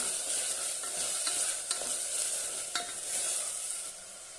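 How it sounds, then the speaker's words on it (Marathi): Sprouted moth beans and peanuts sautéed in a pan for a masala pulao give a steady close sizzle with scraping stir strokes throughout, and no one speaks. "मटकी घालूया मस्तपैकी परतून घेऊया"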